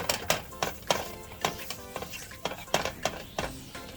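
Butter goes into a pan for toasting meatball sub buns, with repeated sharp clinks and scrapes of a utensil against cookware in an irregular rhythm, close and fairly loud, with no talking.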